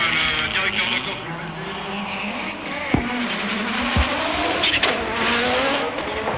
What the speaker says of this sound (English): Donc départ dans quelques petites secondes pour l'Allemand Walter Rohrl, le directeur de course.